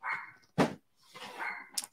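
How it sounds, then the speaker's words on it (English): A Pomeranian barks a few times nearby, short sharp yips separated by brief pauses, heard alone without talk. "so that means the dog's barking"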